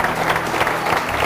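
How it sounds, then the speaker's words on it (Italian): Applause at a bocce club event in Friuli, a dense continuous wash of clapping from a crowd filling the short moment, fairly loud and close. "facciamo già un applauso alle coppie"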